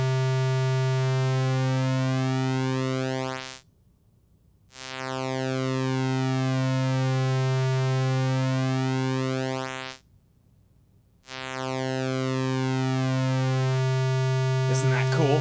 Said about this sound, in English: this is a pulse or square wave. And what's cool about pulse waves is you can change their width